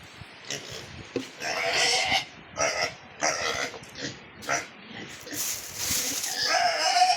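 A pig grunts and snorts while being fed, several short rough bursts in an uneven rhythm close by, with some background noise between them.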